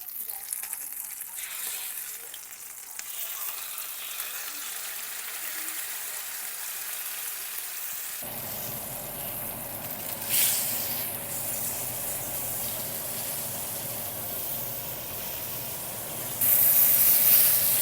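A steak sears in a hot pan, a faint hiss that swells into a steady, louder sizzle about halfway through and stays continuous to the end, with no talking.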